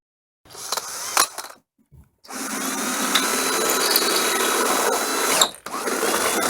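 A power tool drives stainless steel nylock bolts while a motorhome solar panel is fastened, giving short whirring bursts, a pause, then a long sustained buzzing run that briefly dips near the end, close and loud with no talking.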